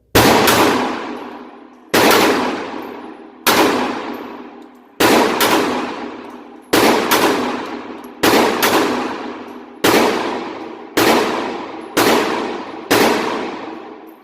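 Ruger LCP2 pistol firing at a shooting range: ten loud, sharp shots spaced about one and a half seconds apart, each followed by a ringing decay, with no talking.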